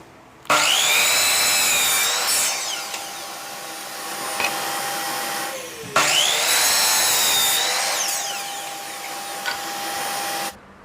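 A power saw cuts through wood in two separate passes, flipping the piece between cuts while making a hexagonal honeycomb shelf, each pass starting with a sharp whine and settling into a steady buzzing grind before stopping.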